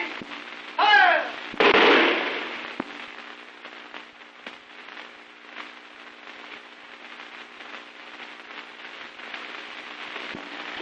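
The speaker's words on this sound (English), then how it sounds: "The firing squad." A firing squad's rifle volley in a 1930 spy drama film: one loud, sharp crack followed by a second burst, then a long fading rumble and faint background noise.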